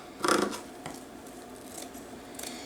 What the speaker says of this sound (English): we're going to cut pieces 7 inches long